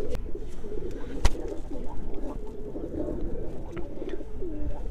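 A male pigeon coos nearby in low, repeated throaty phrases over quiet room noise, with a single sharp click partway through.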